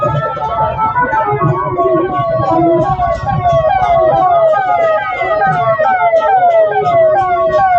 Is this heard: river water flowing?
no